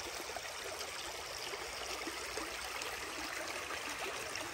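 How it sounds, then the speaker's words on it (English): A creek flows in a steady, close rush of water, an even burbling wash with no voices over it. "bringing you down to our beautiful creek"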